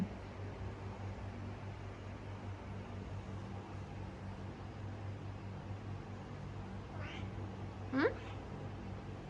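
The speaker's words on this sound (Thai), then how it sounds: "น้องแมวน้อย อายุไม่กี่เดือน" A small kitten gives two short, faint meows near the end over a constant low hum of background noise.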